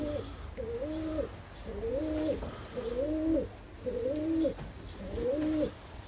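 Pigeons cooing in a coop, five slow, rhythmic coos repeating at even intervals, close and clear over a faint background hum.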